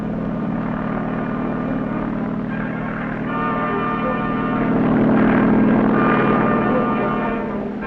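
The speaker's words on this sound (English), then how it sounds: "helicopters also play an important role on the sub-hunting team." A navy helicopter flying during a 1962 US fleet demonstration, a steady rotor and engine drone that holds loud throughout and swells slightly toward the end, with no voices.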